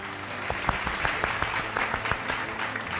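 Audience at a farmers' awards ceremony claps to close the event, a dense patter of applause with individual sharp claps standing out, moderately loud.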